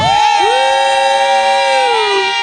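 At a Sunday church mega fest crusade in Githurai, a crowd raises sustained high shouts and ululating cheers. Many voices overlap in long, wavering cries that stay loud and steady throughout.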